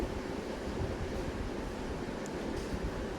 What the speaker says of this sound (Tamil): இப்போ வந்து பார்த்திங்கன்னா சாம்பார் நல்லா கொதித்து நல்லா வருது.